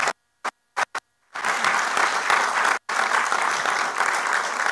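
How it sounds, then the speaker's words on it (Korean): A congregation applauds at a church founding service, strong sustained clapping filling the room after a few brief isolated bursts at the start, with one short break midway. "우리 박수로 축하해 주시기 바랍니다."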